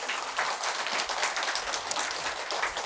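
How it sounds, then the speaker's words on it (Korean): An audience at a Buddhist temple dharma talk in Seoul applauds, a steady, fairly faint wash of many hands clapping, continuous throughout with no voices. "박수 쳐주세요."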